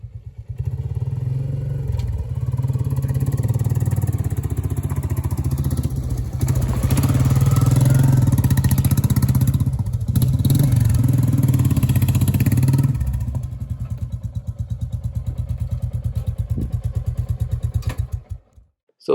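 A Royal Enfield Classic 350 motorcycle riding on moor roads, its single-cylinder engine thumping steadily and close, rising in pitch and load midway, then easing off and dropping away at the end.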